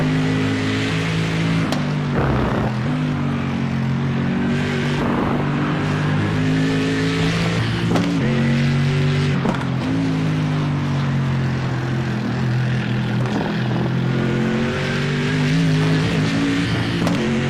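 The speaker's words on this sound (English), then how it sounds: "Love that sound of the Merc." Mercedes race car in the iRacing sim, its engine loud and near, droning through rising revs with quick upshift blips and lifts, one continuous run with no voices.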